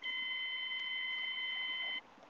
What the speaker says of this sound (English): if you hear the beep, it means that this device is working very, very good